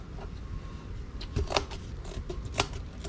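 Scissors cut into a plastic milk jug, giving a few sharp, close snips and crunches against quiet background rustle.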